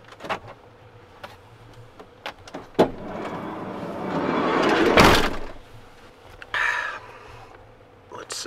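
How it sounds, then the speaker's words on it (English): A van's mosquito door slides shut with a loud swelling rush and thump near the middle, with rain arriving outside and a few sharp knocks and clicks before and after. "Time to close the mosquito door."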